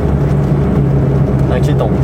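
A 1987 Citroën Visa Club fitted with a 650cc 2CV flat-twin engine drones steadily at full throttle, heard from inside the car, with someone talking over the constant engine noise.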